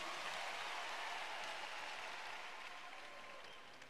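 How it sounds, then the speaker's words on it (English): A church congregation claps at a valedictory service as seats are taken, the dense broadband applause steady throughout and tapering slightly toward the end, fairly quiet overall. "Can we give the Lord a big clap as we take our seats?"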